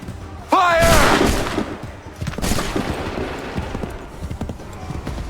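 Musket volley gunfire in Assassin's Creed 3 Remastered: a loud massed blast bursts out, then a second ragged volley follows, with shouted commands and battle noise around it.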